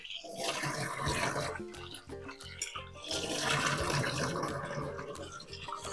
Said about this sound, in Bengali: আমার আলুগুলো কাটা হয়ে গেছে এবার আমি ধুয়ে নেব দু তিনবার করে আমি ধুয়ে নেবো